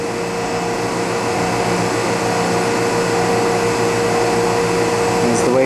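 An Oxford Plasmalab 100 ICP etcher raises its wafer clamp inside the chamber, with a steady loud mechanical hum and whir running throughout and a faint shift near the end.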